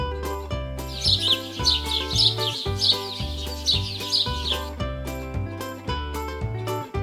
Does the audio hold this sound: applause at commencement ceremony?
no